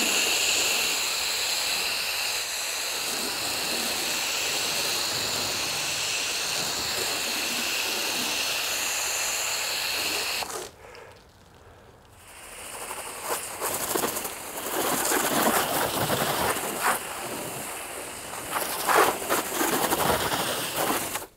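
A budget foam cannon on its setting 5 sprays foam onto a car in a steady, loud hiss that breaks off for a moment, then returns as a rougher, spattering spray.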